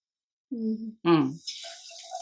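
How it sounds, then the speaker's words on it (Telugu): Water is poured from a glass into a pan while making bellappalu, a sweet cooked in a Telangana style. A brief voice comes first, then a soft, hissing splash of pouring that trails off quietly. "గ్లాస్ తోటి వాటర్ పోసుకుందాం"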